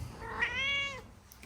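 A cat gives a single clear meow, rising and falling over about half a second, fairly close but quiet against faint background noise.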